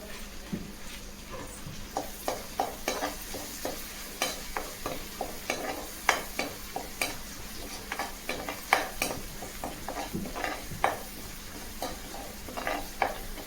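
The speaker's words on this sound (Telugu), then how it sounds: "కొంచెం దోరగా వేగే వరకు వేయించుకోవాలి" Ginger garlic paste and curry leaves fry in hot oil for a goat tripe (boti) fry, a steady sizzle broken by frequent sharp scrapes of a spoon stirring the pan, close and moderately loud with no talking.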